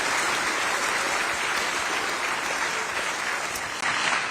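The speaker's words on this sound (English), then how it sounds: "I think that's worth an applause right there." Audience of students and guests at a school talk on financial literacy breaks into steady, full applause, dense clapping sustained throughout with no speech.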